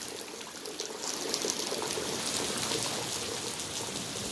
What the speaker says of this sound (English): look how much rain it is now